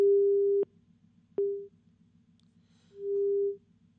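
A telephone busy signal on a failed call during a news broadcast, steady tones pulsing on and off in an uneven rhythm over a faint low hum, clear and close with no speech.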